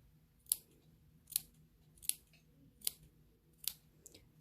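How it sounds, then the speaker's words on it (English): Scissors snip fabric near the stitch line during a sewing project, giving five or six crisp, close cuts spaced under a second apart against a quiet background. "what I'm doing is I'm making snips like this."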